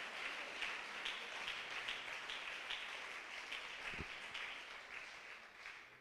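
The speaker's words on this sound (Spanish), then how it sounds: "Dale ese aplauso fuerte al Señor" A church congregation applauds strongly to the Lord, producing a continuous wash of clapping that holds steady throughout and tapers slightly toward the end.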